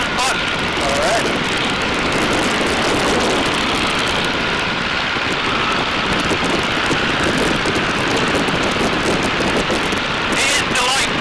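Tiger Moth biplane in flight, a steady loud engine drone with rushing wind noise filling the whole span, with people talking in the cockpit over it.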